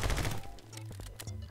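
Gunfire from the video game My Friend Pedro comes in a quick burst of rapid shots, followed by a few scattered clicks and pops, loud and close.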